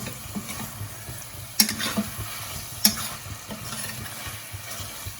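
Mutton coated in masala powders fries in a pan with a soft steady sizzle, broken by a couple of sharp metallic clinks of the stirring spoon and quieter scraping strokes.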